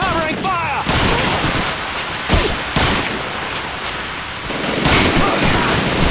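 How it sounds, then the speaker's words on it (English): Dense covering gunfire fills a Call of Duty 2 battle: loud, continuous overlapping rifle and machine-gun bursts. One sharp, heavy shot stands out in the middle, and there is no break in the shooting. "Let's give Sergeant Davis and his boys some covering fire!"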